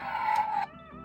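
A Mattel Jurassic World Baryonyx toy with a weak battery emits a short, distorted electronic roar, faint and wavering, cutting off abruptly after about half a second.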